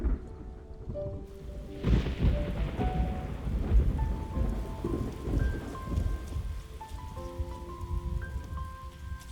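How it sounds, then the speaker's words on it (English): Heavy rain pours steadily with a rumble of thunder in the video game Love and Deepspace, a sudden downpour swelling in after a quiet start while soft musical tones ring over the storm. "It's raining! Let's head inside."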